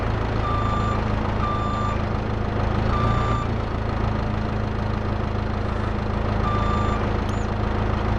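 A wheel loader in Farming Simulator 22 beeps steadily in reverse, several evenly spaced electronic tones over a constant loud engine rumble, with no talk.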